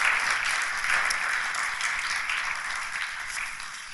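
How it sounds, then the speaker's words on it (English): An audience at a policy panel on demographics, climate and water gives the panelists a round of applause: dense, steady clapping from many hands, fairly close and loud throughout, easing off only slightly. "please, if you could give a round of applause to the panelists"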